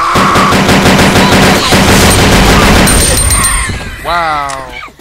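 Rapid pistol gunfire in the Blood Hospital video game, a dense, loud burst of repeated shots lasting several seconds, then a short voice-like sound as the firing stops.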